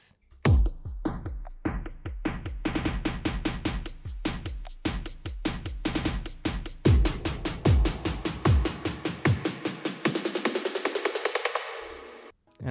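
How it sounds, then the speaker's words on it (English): A drum part added to an electronic music production: steady kicks and snares under a rising sweep that builds in density and speed toward a drop, then cuts off abruptly near the end. "And finally, I added some drums,"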